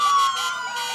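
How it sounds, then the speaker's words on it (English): Emergency vehicle siren sounding during a Christmas parade, a steady rising-and-falling wail that carries loud and fairly near, with no talk over it. "That's a different siren. It's a unique siren, isn't it?"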